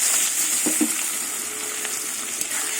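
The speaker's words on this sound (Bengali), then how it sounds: "কুচুনো পেঁয়াজগুলো লাল করে ভেজে নেব" Chopped onions fry in hot oil after cumin and bay leaf were tempered in the same oil, making a loud continuous sizzle close by with a few clinks and stirring scrapes and no voices.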